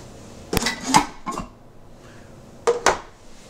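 A knife cuts a pressure-cooked beef roast into chunks, producing a handful of sharp knocks and taps against a cutting board in two loose groups, close and clear with no talking.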